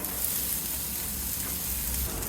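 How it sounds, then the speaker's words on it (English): Onions sautéing in peanut oil on a Blackstone griddle, a steady broadband sizzle with faint crackle that holds level throughout, close and moderately loud, no voices. "putting down some peanut oil and some onions"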